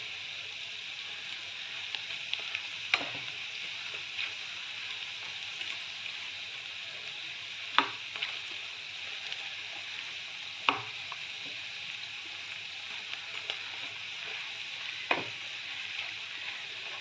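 Battered cauliflower pieces for gobi 65 deep-frying in hot oil, a steady soft sizzle with a few sharp crackles and pops scattered through it.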